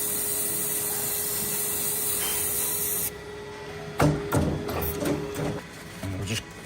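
Hoof spray applied to a cow's trimmed hoof during hoof care, heard as a steady hiss for about three seconds, then followed by scraping and rubbing sounds.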